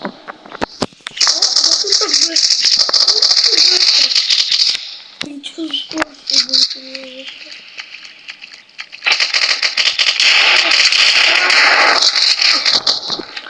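Video game gunfire crackles in scattered bursts of sharp shots over a loud hissing din, with someone talking intermittently.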